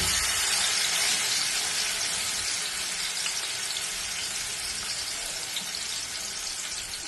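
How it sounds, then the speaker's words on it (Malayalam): Chicken set to fry in a hot pan gives off a dense, loud, continuous hiss and sizzle, close and steady throughout with no voices. "അതിലേക്ക് നമുക്ക് ഇത് പൊരിക്കാൻ വെച്ചു കൊടുക്കാം"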